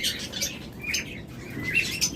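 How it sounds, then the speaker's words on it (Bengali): Several small lovebirds in a breeding setup chirp and squawk in short bursts over a steady background rustle, fairly close, with no one talking. "আর এই পাশে রয়েছে আমাদের ব্রিডিং সেটআপের কিছু লাভবাট পাখি"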